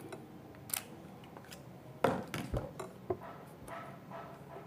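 A spoon stirs a homemade whitening lotion mixed with glutathione and vitamin C in a bowl, giving faint, scattered scrapes and a few sharper clinks against the container.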